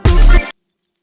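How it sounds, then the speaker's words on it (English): A kick drum processed with a crystallizer effect in an experimental trap beat made in Cubase: one loud, booming hit smeared with a shimmering, glassy wash that cuts off abruptly into silence. "this is a kick with crystallizer on it"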